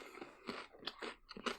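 Close, crunchy chewing of food, several loud bites and munches in an irregular rhythm right at the microphone, with no talking.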